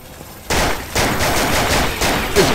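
Gunfire from a weapon in the video game NecroVisioN breaks in suddenly and rattles on in loud, rapid, closely spaced bursts, with no talk over it.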